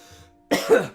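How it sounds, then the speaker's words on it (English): A single close, harsh cough bursts out after a moment of near silence, rough and throaty, trailing off quickly. "Coughing is done."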